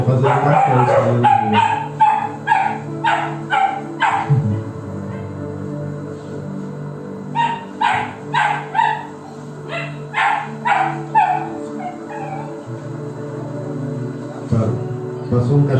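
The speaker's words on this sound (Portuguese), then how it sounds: "Passou um cachorro e parou no nosso portão, aí eles latiram." Several dogs bark in two excited bursts of rapid yips and woofs, fairly close, separated by a quieter stretch with a low background hum.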